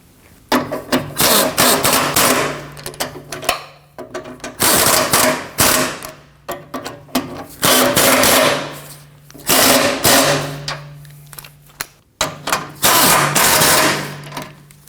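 Control arm bolts on a 2016-2022 Honda Pilot front suspension being snugged down with a power tool, in loud repeated bursts of whirring and rattling impact separated by short pauses.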